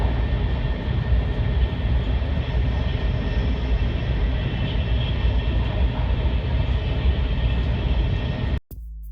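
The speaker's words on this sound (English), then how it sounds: "this is actually riding on that high-speed rail at nighttime." A high-speed rail train in Taiwan riding smoothly at night, giving a loud, steady broadband rumble and roar that carries on without a break, much like a jet engine, before it cuts off abruptly at the very end.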